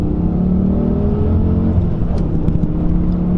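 A Honda Civic drives off-road with a steady, close engine whir and road rumble. The drone holds even and continuous throughout, with no talk over it.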